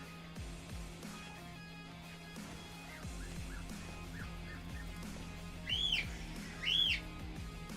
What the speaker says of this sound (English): Sorry, the birds are in my room, so.